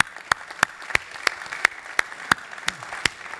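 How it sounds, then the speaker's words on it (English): Applause at an OpenStack conference comes as a string of sharp, evenly spaced claps, about three per second, clear and fairly close with no voices over them. "So I think you all deserve a big clap."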